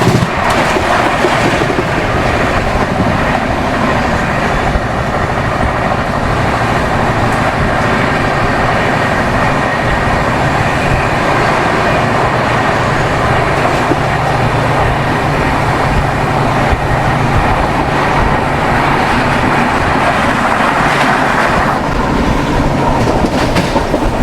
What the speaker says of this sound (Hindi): ट्रेन नंबर 12191 श्रीधाम एक्सप्रेस को अपनी राजधानी ओवरटेक करने वाली है।